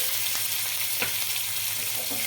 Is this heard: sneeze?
no